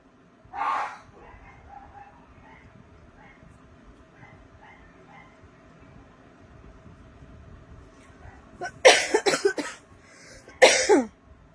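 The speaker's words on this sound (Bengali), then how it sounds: "ভয়ঙ্কর কাশি হয়েছে।" Several harsh, loud coughs burst out near the end, following one earlier brief cough, over a quiet background with faint distant noises, during a live sale of silk batik saris.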